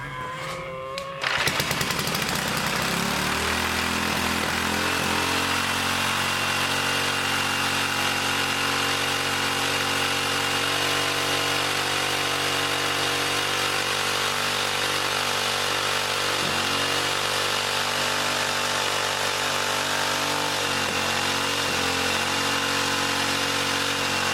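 A 1959 military engine sputters and catches after a brief start-up, then runs steadily with a loud, buzzing, chainsaw-like drone that holds to the end, slight wavers in pitch along the way.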